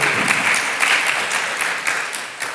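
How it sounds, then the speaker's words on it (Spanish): A church congregation claps together during a sermon, a brief, steady burst of many hands with no talk over it. "Denle el aplauso."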